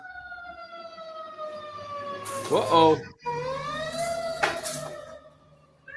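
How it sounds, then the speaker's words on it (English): Sirens wail with rising and falling tones, growing louder as they approach, with a brief remark spoken over them. "here comes the sirens. They're coming."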